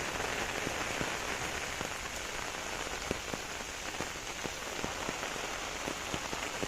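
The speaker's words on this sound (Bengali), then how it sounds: "মুসলধারে বৃষ্টি হচ্ছে এখন" Heavy downpour during a rainy-day fishing outing in Bangladesh, a dense, continuous roar of rain with scattered sharper drops striking nearby surfaces, steady and loud throughout.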